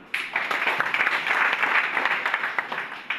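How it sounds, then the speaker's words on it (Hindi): Audience at a network marketing meeting clapping steadily and fairly loudly for about three seconds, a dense patter of many hands with no voices over it. "और इनके लिए ताली बजाओ।"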